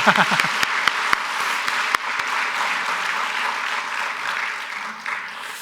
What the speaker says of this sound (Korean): 우리 하나님께 한번 영광의 박수 올려드리시겠습니다